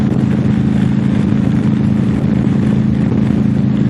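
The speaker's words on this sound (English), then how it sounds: "The bike seems to like it better in fifth gear." A motorcycle cruises in fifth gear on the Garden State Parkway, its engine a loud, constant drone blended with wind rush and no letup.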